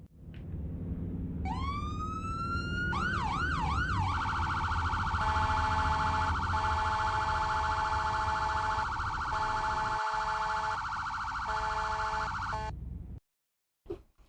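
A loud electronic siren sweeps up and wails rapidly, then settles into a steady blaring horn tone that holds for several seconds before cutting off abruptly.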